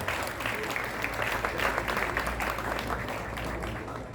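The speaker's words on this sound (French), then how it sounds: "Merci d'applaudir le collège Foyer Lumière." Audience applause for the school Collège Foyer Lumière at a school text and eloquence competition final, an even, sustained patter of many hands, distant and moderately soft.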